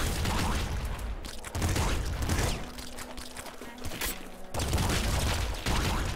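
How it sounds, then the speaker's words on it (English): A triple machine gun fires in the video game Nuclear Throne, dense rapid bursts of gunfire that pause briefly and then resume, loud and continuous over mechanical game noise. "Triple machine gun, that's fine."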